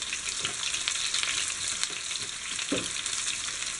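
Chopped onion hits hot oil with popping mustard seeds, giving a steady, close sizzle with faint stirring scrapes.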